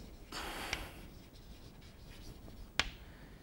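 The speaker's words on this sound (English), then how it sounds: "So let me write that down." Writing down a maths statement about Möbius transformations, a faint hiss of a marker or chalk stroke followed by scattered quiet scratches and two sharp taps, low and close.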